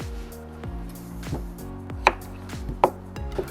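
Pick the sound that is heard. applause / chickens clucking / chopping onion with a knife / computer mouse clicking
chopping onion with a knife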